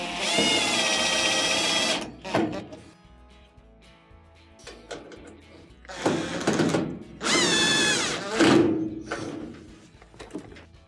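A power drill whirs in several bursts, loud and close, with quieter pauses between the runs, during a GE dryer drive motor repair.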